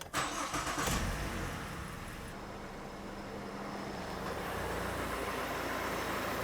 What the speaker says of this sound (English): I'm gonna get in the car, start the car, turn on the AC.